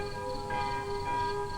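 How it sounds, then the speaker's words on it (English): A curfew bell tolling at nightfall over hills, a sustained ringing tone with swelling strikes, steady and moderately loud with no voices. "the curfew bell tolled its warning"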